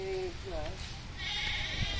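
Goats bleating on a mango farm, a couple of short wavering calls heard faintly beneath a person talking nearby, with a thin rustling background.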